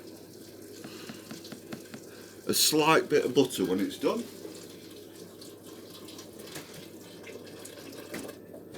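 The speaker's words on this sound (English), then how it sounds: "I'm filling it up with boiling water" Boiling water poured from a kettle into a pan of potatoes for a fish pie, a short gushing pour lasting under two seconds with a person talking before and after.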